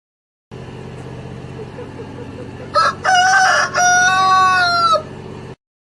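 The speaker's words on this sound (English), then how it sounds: "Rooster." A rooster crows once, loud and close, with a drawn-out, wavering cock-a-doodle-doo rising over a steady low hum and ending abruptly.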